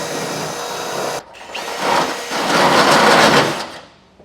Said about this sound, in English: I'll take my bit and I'll drill through that as well.